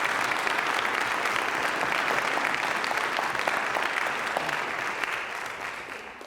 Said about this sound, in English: Can we just get one more round of applause for this group?